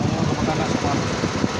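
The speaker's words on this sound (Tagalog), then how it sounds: "Gumagana sa fan." The radiator cooling fan of a 2024 Toyota Wigo with an overheating problem runs as a steady, close whirring rush over a low engine rumble, holding even in level throughout.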